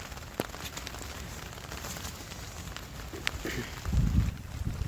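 Morning rain falls over a home garden with turmeric and tulsi plants, a soft steady hiss of drops with occasional louder drips and a brief low rumble, fairly faint and without talk.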